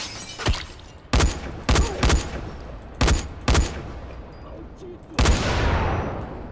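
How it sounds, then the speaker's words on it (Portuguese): Gunfire from enemies in the video game Dying Light, a series of sharp, loud bursts at uneven intervals, with one heavier blast that rings out at the end. "Eu não sei de onde esses caras estão atirando"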